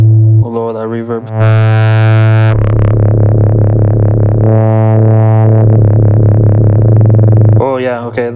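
Soma Terra synthesizer playing a loud sustained drone, with the tone warbling under LFO modulation and shifting timbre through reverb and effects.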